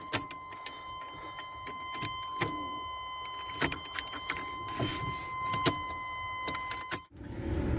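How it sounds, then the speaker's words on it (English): A Chevy OBS truck engine runs on starter fluid with a steady mechanical drone and a constant whine, broken by scattered sharp clicks and rattles, close by, before cutting off abruptly near the end. "I got the thing to crank and fire up, and with starter fluid it'll run"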